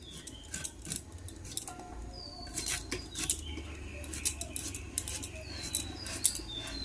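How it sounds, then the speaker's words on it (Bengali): Raw jackfruit is chopped into pieces with a knife, producing a close, quiet series of irregular taps and cutting scrapes, with faint birdsong in the background. "এবার এঁচোড়টা আমরা সুন্দর করে কেটে নেব"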